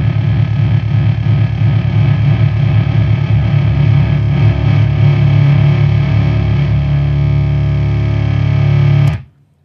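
A Heretic Effects Drone Box pedal blending its two drone sounds into one thick, sustained, distorted tone that holds steady and loud, then cuts off abruptly near the end.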